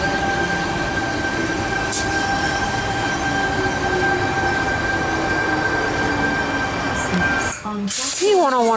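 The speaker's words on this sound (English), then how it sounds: "T101 and his friend is now departing platform number 1, Central via Gordon service." A Sydney T101 electric train on the Central via Gordon service pulls away from platform 1 at Asquith station, giving a loud, steady rumble laced with whining tones that dips briefly near the end before a burst of fresh noise.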